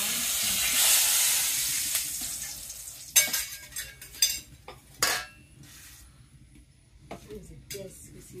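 Small dough balls drop into hot oil in a village kitchen and fry with a soft, steady sizzle, while a utensil scrapes and clinks against the pan in several sharp bursts.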